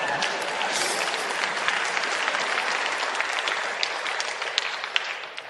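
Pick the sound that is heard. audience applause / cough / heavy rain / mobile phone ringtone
audience applause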